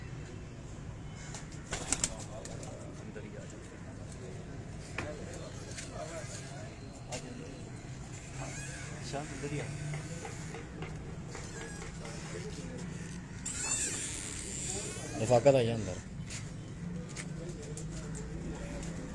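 Pigeons on a breeder's rooftop in Kasur, including Jaller, Dub and Teddy breeds, with bursts of wing flapping and faint cooing close by under steady talk.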